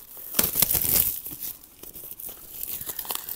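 A vinyl record's plastic wrap is torn and crinkled close by, sharp ripping bursts early on followed by softer, irregular crackling of the film.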